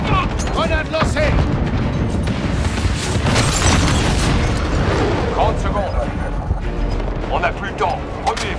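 Heavy booms and gunfire crackle through a Call of Duty Modern Warfare 2019 firefight, with a grenade blast amid continuous shots, loud and close, while radio-style voices talk over the action.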